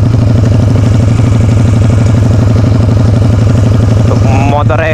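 A modified motorcycle runs close and very loud, its engine built with a Jaguar cylinder block and head, pounding out a fast, even train of firing pulses.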